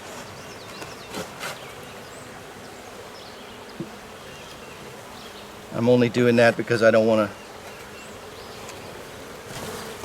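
A loud burst of honeybee buzzing at the hive swells up for about a second and a half amid quiet outdoor background, with someone speaking softly nearby.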